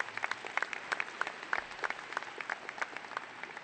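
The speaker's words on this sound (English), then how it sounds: "Yes, that deserves some applause." Audience applause at the 2023 Warren High School graduation ceremony, a dense, steady patter of many hands clapping at moderate volume for several seconds without a break.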